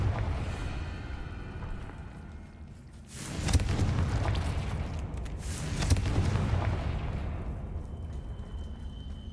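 Confringo blasting spell going off in Hogwarts Legacy, heard as two loud, deep explosive bursts a few seconds apart, each swelling into a rumbling roar over steady game ambience.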